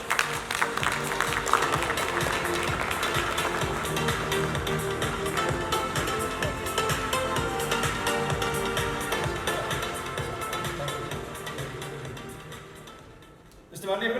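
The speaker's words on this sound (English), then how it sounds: "Big round of applause." An audience at an IGPL golf tour event gives a sustained round of applause, dense and even throughout before easing off near the end, with a voice rising over it at the close.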